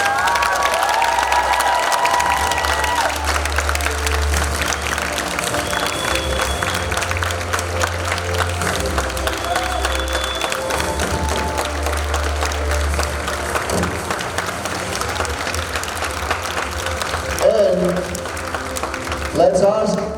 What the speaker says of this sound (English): Please, let's give a strong round of applause.